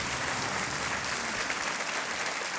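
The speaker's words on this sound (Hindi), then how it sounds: "तालियों के साथ इनका अभिनंदन।" A studio audience on a quiz game show breaks into loud, dense, sustained applause that fills the space from start to end.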